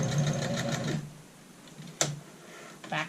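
A sewing machine runs in reverse to back stitch the tip of a skirt dart, giving about a second of steady close mechanical whirring, followed by a few short clicks and handling taps.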